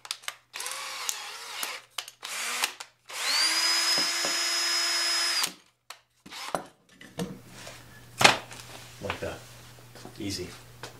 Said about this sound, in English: just put your drill on.